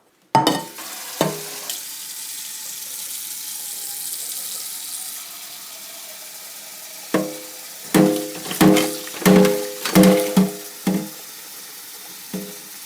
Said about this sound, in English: Now you need to fill up your pot.